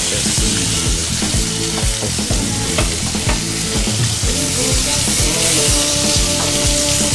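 Chicken pieces fry loudly in a hot pan with a constant close sizzle, while a utensil repeatedly stirs and scrapes through them in an uneven rhythm.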